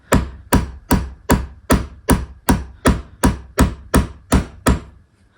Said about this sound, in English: then I'm going to hammer a hole in this, and I'm turning my hole punch a quarter turn every time I hit